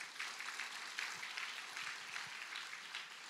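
A church congregation claps hands to give glory to God during a sermon. The steady, dense patter of clapping is faint and distant, and no one speaks over it.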